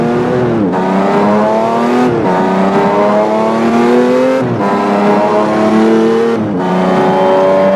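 Race car engine in the Assetto Corsa racing game, loud and continuous, rising through the gears in four long pulls with brief drops at each shift, no talk over it.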